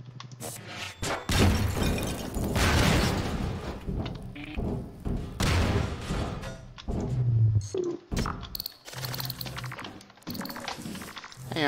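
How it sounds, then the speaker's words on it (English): Loud, rumbling bursts and crashing debris from explosions in Half-Life 2: Episode One, several heavy booms and shattering impacts spread across the stretch, with thuds and scattered clatter between them and no talking. "No, you don't need to worry about those explosions."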